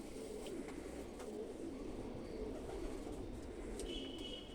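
Pigeons kept by a fancier coo softly and repeatedly against a steady, faint background hum, with no voices.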